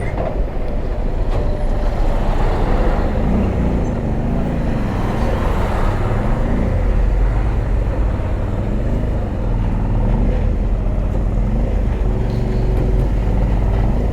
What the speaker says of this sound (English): there's a lot of traffic jam here